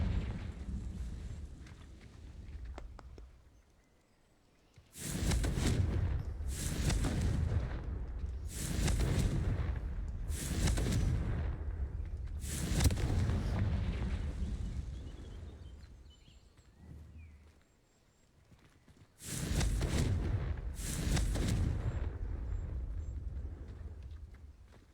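Confringo blasting spells going off in the Hogwarts Legacy video game, a series of booming explosions, mostly one after another with brief quieter gaps, loud and close with rumbling tails.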